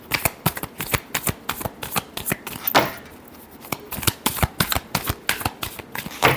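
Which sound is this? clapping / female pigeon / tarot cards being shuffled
tarot cards being shuffled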